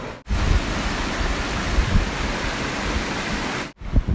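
Creek water flowing steadily through Aliso and Wood Canyons in California, a continuous broadband rush heard close and alone, cutting off abruptly near the end.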